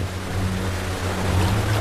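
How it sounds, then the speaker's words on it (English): A gushing waterfall on a river roars as a steady, loud, unbroken rush of water with no other sounds. "The gushing waterfall further upstream seems insurmountable."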